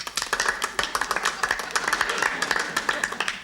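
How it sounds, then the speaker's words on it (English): A small group of people in a department store claps steadily for a few seconds, with sharp, dense, close handclaps and some voices mixed in. "What are you all applauding for?"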